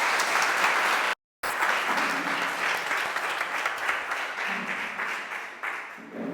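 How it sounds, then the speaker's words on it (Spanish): Audience applause fills the clip as a dense, continuous wash of clapping, briefly cut by a silent gap near the start and then continuing with no speech over it. "Un aplauso a Piedad Córdoba."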